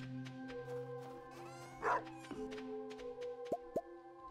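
Dog in the Stardew Valley farming video game being given water: a soft plop, a short yip and a couple of quick cartoonish blips over quiet looping game music.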